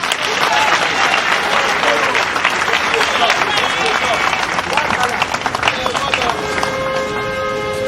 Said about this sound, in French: Saluez, applaudissez pour eux s'il vous plaît.